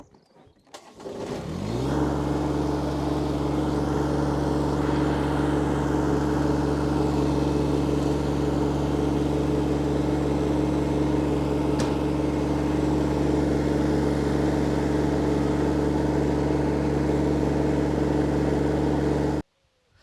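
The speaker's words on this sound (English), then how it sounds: "then I'll be able to tow my trailer around in the garden here" An ISEKI SXG326 garden tractor towing a trailer starts up, then holds a steady, loud, close engine drone for most of the stretch before cutting off abruptly at the end.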